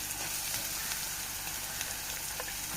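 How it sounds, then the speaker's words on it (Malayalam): Chopped onions sautéing in a clay pot for a Kerala-style mackerel roast, a steady soft sizzle and crackle of frying close up, continuous with no talk. "സവാളയും കൂട്ടി നല്ല പോലെ ഇനി വഴറ്റിയെടുക്കുക"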